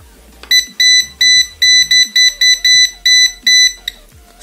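A non-contact voltage tester beeps high in quick bursts, about a dozen short electronic pulses in an uneven rhythm, loud and close.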